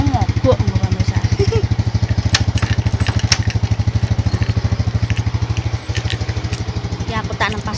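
A motorbike engine idles as it warms up, putting out a loud, even, rapid thumping pulse close by throughout, with only a brief dip near the end.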